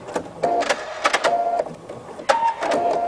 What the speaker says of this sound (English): You're going to stitch up over the top, and as you approach this second ribbon here, stop, back stitch a couple of times